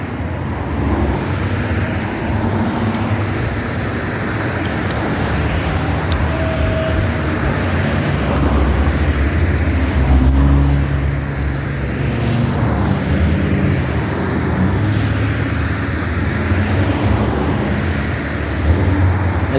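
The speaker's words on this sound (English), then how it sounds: "if you can hear in the background people speeding up and down 650" Cars speed along Route 650 in Takoma Park, Maryland, making a continuous roadside roar of passing traffic that swells and fades over twenty seconds, with no talking.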